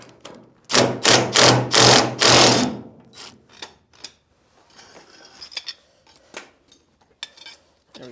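Impact wrench on a rat rod VW Beetle fires off a loud burst of rapid hammering lasting about two seconds, then sparse clicks, ratcheting and metallic clatter of tools follow more faintly.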